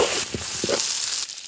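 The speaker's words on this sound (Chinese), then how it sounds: "锅里面留一点底油，放入干辣椒、花椒、" Dried chilies, Sichuan peppercorns, ginger, garlic and onion sizzling in a little oil in a countryside wok, a steady bright hiss with a few soft stirring scrapes, close and with no talk.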